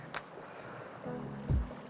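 A small stream flowing near Gudhe Pachgani in Sangli during the monsoon, a steady rushing wash of water heard close by, with a few low thumps that sound like wind or handling noise. No speech.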